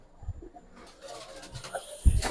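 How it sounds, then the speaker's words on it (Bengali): Pigeons, including Giribaz, silver and kaldum breeds, coo softly in low, throaty bursts, with a rustle and a louder thump near the end. "এখানে কিছু কবুতর আছে"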